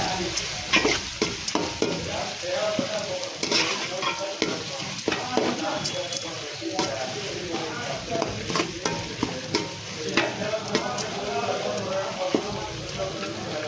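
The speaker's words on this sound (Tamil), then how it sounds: "சின்ன வெங்காயம் நல்லா வதங்கட்டும்" Shallots and green chillies sautéing in oil, a continuous crackling sizzle broken by frequent scraping and stirring strokes of a spoon against the pan, close and loud throughout.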